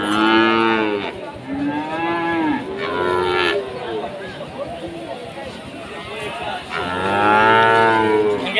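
Cattle at a village livestock market in Chandipur, Rajshahi, with loud, close, drawn-out moos repeating several times over a crowd murmur, and someone talking between the calls.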